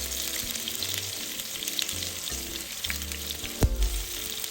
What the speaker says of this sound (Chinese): 边煎边翻面，直到表面微微焦黄，边缘发硬